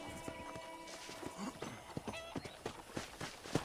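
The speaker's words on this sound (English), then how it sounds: "let's see if you can still ride a horse" Horse hooves in the video game Red Dead Redemption clop at a quick walking rhythm under a faint, steady game background, fairly quiet and near, with a brief whinny-like sound in the middle.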